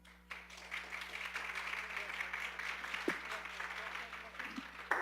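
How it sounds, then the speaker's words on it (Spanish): An audience claps in sustained applause for a woman being honored at a professional association gathering in Mexico City, a steady broadband wash of many hands filling the room at moderate loudness throughout. "les pido un fuerte aplauso"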